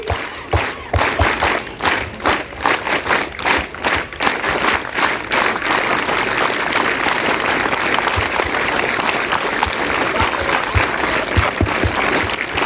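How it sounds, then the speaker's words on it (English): Schoolchildren at an Independence Day celebration clap in a rhythmic pattern, distinct pulsed claps at first that build into dense, loud, continuous applause from a large group. "Can we have a rhythmic clap?"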